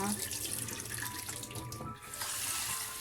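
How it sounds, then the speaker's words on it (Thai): Sticky rice being rinsed by hand under a running kitchen tap, a steady close splashing of water into a bowl with brief shifts as the grains are stirred. "เราจะล้างให้ยางข้าวเหนียวออกจนหมดนะคะ"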